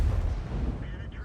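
A tank cannon in the video game World of Tanks fires from a stationary hull, a short booming blast with a low rumbling tail, fairly quiet overall.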